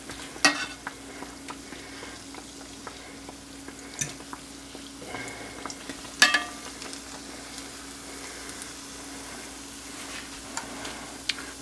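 Oreos deep frying in hot oil give off a quiet, continuous sizzle with occasional small pops and clicks nearby, and nobody speaks.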